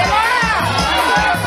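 A loud, close crowd cheers and shouts, children's voices among them, at an outdoor pre-Carnival festival with a children's costume contest on a town square in Maracanaú; the noise is continuous, with excited voices rising above the babble.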